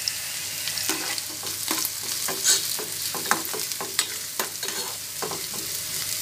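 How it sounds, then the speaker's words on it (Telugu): Onions with curry leaves frying in a pan for mutton keema, a steady close sizzle with repeated scraping stir strokes throughout, no talk. "ఆనియన్స్ బ్రౌన్ కలర్ వచ్చే వరకు మూత పెట్టి వేయండి"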